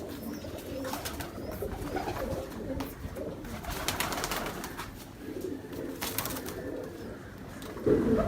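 Pigeons of the Ferozpuri breed cooing softly in a loft, repeated low throaty coos over a constant outdoor background with a few louder calls near the end.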